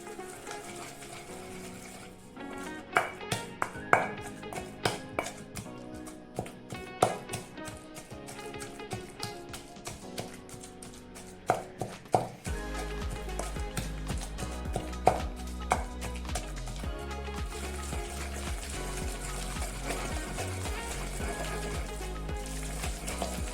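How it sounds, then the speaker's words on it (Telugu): Mint chutney with tamarind soaking water being ground in a stone mortar: close, irregular knocks and gritty scraping of stone on stone repeat throughout, joined by a steady low hum in the second half. "చింతపండు నానబెట్టిన నీళ్లు కొద్దిగా వేసుకొని మెత్తగా రుబ్బుకుందాము."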